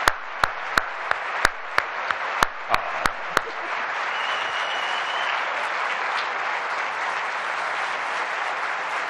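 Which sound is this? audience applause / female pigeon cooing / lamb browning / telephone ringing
audience applause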